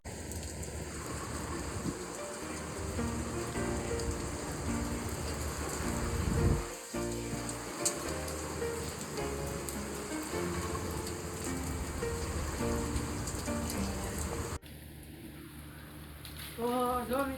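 Steady unseasonal winter rain falling outdoors, a dense even hiss of drops on surfaces with some low rumbling, continuous and fairly close, briefly changing in tone near the end.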